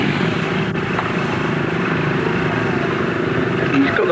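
A trials motorcycle climbs rocks at a 1984 arena trials event at Honiton Show, its engine droning steadily and loudly throughout under a busy outdoor crowd ambience.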